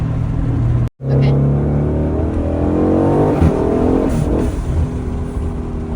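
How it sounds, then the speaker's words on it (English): An Aston Martin Vantage with the M177 engine and a big turbo upgrade accelerates hard with wheelspin on concrete, its loud engine roar rising after a brief cut, with tyre scrabble beneath. "It spins a lot, so I have to make sure I'm on concrete, and yeah, this car's fast."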